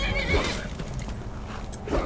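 Horse neighing loudly in the Skyrim video game, a short whinny with faint hoof clatter, heard alone without talk.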